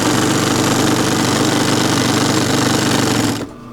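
A walking foot sewing machine stitches a wool blanket shirt in a fast, steady mechanical chatter, loud and close, then stops abruptly near the end.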